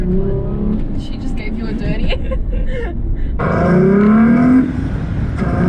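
Hyundai Tiburon V6 with a manual gearbox accelerating, the exhaust note rising in pitch and swelling louder toward the end, under people talking inside the car.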